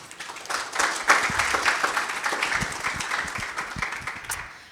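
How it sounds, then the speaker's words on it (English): An audience at a tech community panel event gives the panelists a round of applause, a dense burst of many hands clapping that swells quickly and then slowly thins out, fairly close with no talk over it. "So let's give them a round of applause."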